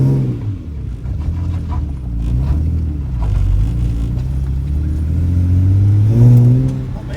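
A BA Ford Falcon with new steering knuckles and coilovers pulls away, its engine rumbling low and close, rising in revs with a surge near the end, no talking.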